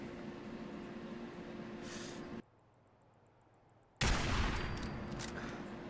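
Bursts of gunfire from the Fallout 4 video game, loud and dense, broken by a brief near-silent gap before another heavy, sharp volley takes over.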